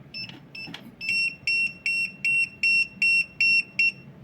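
Restaurant pager buzzing in a run of short, evenly spaced electronic beeps, about eight quick pulses in a row, clear and fairly close with no talk.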